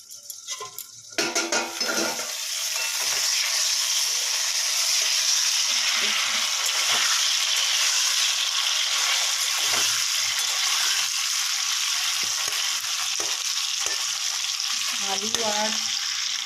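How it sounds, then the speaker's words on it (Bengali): Meat fries in a pan with a loud, continuous sizzle that swells after a few scraping stirs at the start, then holds at an even roar with occasional faint utensil clinks near the end. "একটু নেড়ে দিই।"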